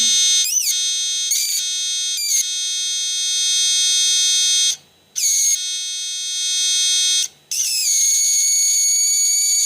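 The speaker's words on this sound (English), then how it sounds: "this sound is the transformer sound" A loud, piercing high-pitched whine from a transformer powering a 2 kV circuit with 2SC5200 audio transistors, steady harmonic tones, wavering and briefly cutting out twice before resuming strongly.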